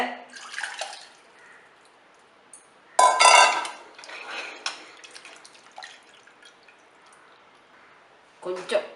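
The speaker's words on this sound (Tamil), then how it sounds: "பாத்திரத்துலேயே நான் வைக்கிறேன் தண்ணி ரசத்துக்கு" Water goes into a cooking pot that held dal for rasam, heard as short bursts of splashing and metallic clatter, with one loud burst in the middle and quieter stretches between.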